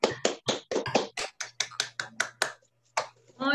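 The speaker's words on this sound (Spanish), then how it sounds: "Un aplauso para Santi, por favor." Scattered hand claps in a classroom for a student, a dozen or so irregular claps from a few children, moderately close, with a low hum underneath and a brief pause near the end.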